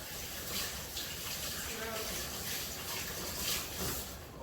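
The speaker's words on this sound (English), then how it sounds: "I'll give my hands a quick wash." Water runs steadily from a kitchen tap for hand washing, a soft continuous splashing rush heard at low level with faint shifts as the hands move under the stream.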